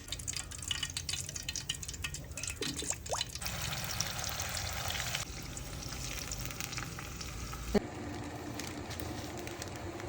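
Chicken pieces fry in hot coconut oil on a stove for biryani, giving a continuous close sizzle and crackle with occasional stirring scrapes throughout.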